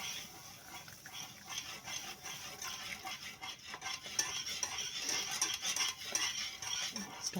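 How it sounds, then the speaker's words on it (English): Spoon stirring biscuit gravy mix in a pot, steady scraping and clinking strokes repeating close by, faint and continuous with no talking. "I'm just going to stir that up."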